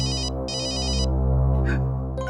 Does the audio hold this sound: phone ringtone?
yes